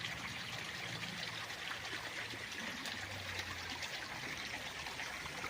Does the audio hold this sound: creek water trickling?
yes